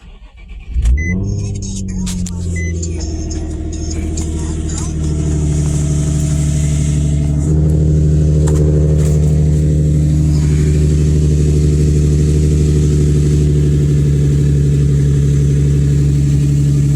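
A Nissan 350Z engine fires up and revs, then settles into a loud, deep, steady rumble with a throaty drone from its aftermarket exhaust, with a slight exhaust leak.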